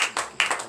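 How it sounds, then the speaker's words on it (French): A church congregation at a Friday morning prayer service in Benin claps in acclamation, with a few distinct, fairly faint bursts of hand claps in quick succession. "Donnez l'acclamation à Jésus."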